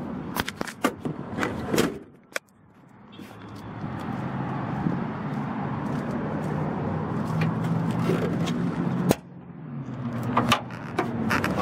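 A 1990 Ford F350 one-ton dually crew cab pickup with a 460 engine has its hood popped: sharp latch clunks and thumps, then a longer rustling, creaking stretch while the hood is lifted, ending in another firm clunk.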